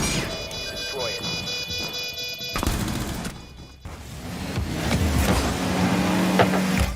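Rocket-powered cars in a car-soccer game whoosh and rev, the engine roar building and shifting as they speed and boost, with a narrator speaking over the action.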